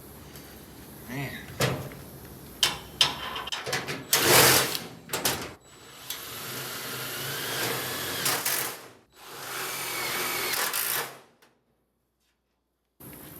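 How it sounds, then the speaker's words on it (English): A powered screwdriver drives screws into a seat rail support bracket on a Volkswagen Karmann Ghia under restoration, with several whirring bursts of varying length, close and fairly loud, separated by short pauses and clanks. "And now I'm screwing the support bracket to the pan"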